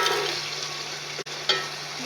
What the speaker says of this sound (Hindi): अब हम इसे फ्राई करते हैं